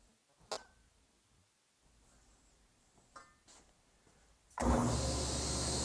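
After a few soft handling knocks, a sander used to bevel a zero clearance insert for a DeWalt mitre saw switches on with a sudden loud, steady whir that runs to the end.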